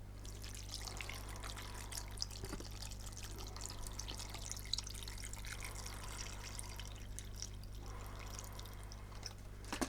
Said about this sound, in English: now I'm going to add some full fat milk, around about half a litre